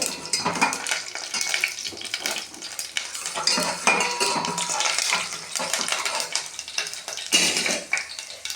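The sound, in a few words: mustard seeds and lentils spluttering in hot coconut oil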